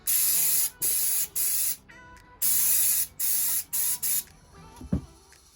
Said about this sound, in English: just spray everything down, get all the residue off everything